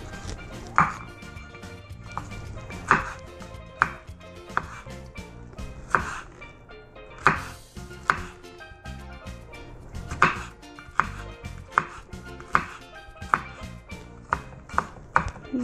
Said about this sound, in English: Start chopping through this.